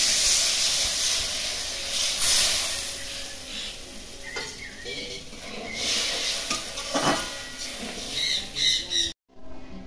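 Water poured into a hot pan while cooking fish curry, a loud rushing hiss of steam that slowly fades, with faint stirring and pot scrapes before an abrupt cutoff.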